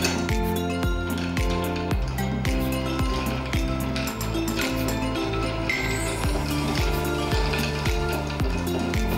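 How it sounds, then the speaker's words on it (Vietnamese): Ice clinks rhythmically against a glass as a whisky cocktail is stirred, a steady, close, repeating swirl-and-tap pattern with no speech. "Và mình khuấy để cho các nguyên liệu nó quyện vào nhau."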